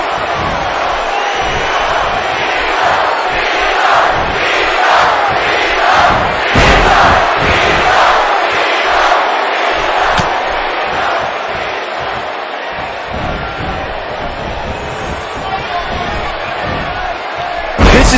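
Arena crowd in a Toronto wrestling match from the game WWE 2K18 roars continuously, a dense loud wash of cheering and shouting that swells in bursts and never drops out.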